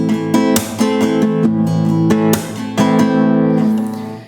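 Spanish guitar strummed in a rumba rhythm, bright full chords with sharp accented strokes falling in a steady groove, loud and close with no voices, ringing out at the end.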